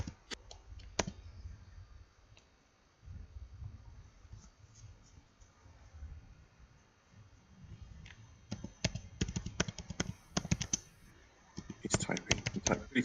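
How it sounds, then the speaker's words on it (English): Someone types fast on a computer keyboard, bursts of quick, faint clicks and taps that come and go, growing busier toward the end, with a little talk mixed in. "He's typing. He typed pretty fast"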